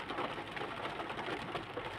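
Heavy rain drums on a car windscreen in a dense, continuous patter, close and steady throughout, with no voices.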